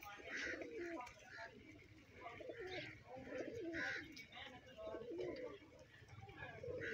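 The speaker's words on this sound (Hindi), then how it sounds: "यार ये कौन सा कबूतर है," Pigeons cooing steadily in repeated soft, throaty phrases, close by over a low background hum, with no talk.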